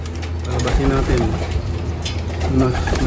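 Young pigeons coo repeatedly in soft, throaty bursts close by as they are let out of a loft, with someone talking over them.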